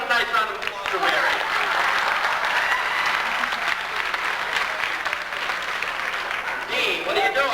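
Audience clapping at a zoo sea lion show in 1989, steady round of applause from the crowd lasting several seconds, with voices and crowd noise mixed in.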